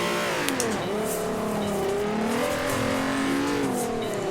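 A Volkswagen MK4 Golf R32 with a naturally aspirated engine revs in Forza Horizon 4. The loud, steady engine tone climbs slowly, dips and rises again, with a few faint clicks over it and no talking.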